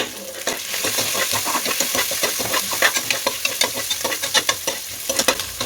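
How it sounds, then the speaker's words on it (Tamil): Onions sautéing in a pan with ginger and garlic for beef bone soup, a steady sizzle broken by frequent scraping stirs, close and fairly loud with no talking. "அந்த வெங்காயத்தை இதில் சேர்த்துப்போம். இதையும் வதக்கி விட்டுடலாம்."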